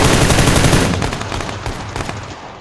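Rapid automatic gunfire from the PUBG Lite video game, loud and dense bursts at first that continue slightly thinner to the end, with no talking over it.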